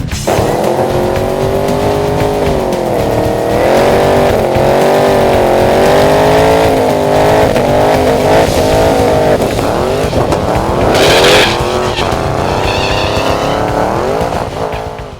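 RC burnout car from RC Smokers, the Burnout Demon, revving hard through continuous smoky burnouts, a loud high-pitched motor whine rising and falling with tire squeal, sustained for the whole stretch without speech.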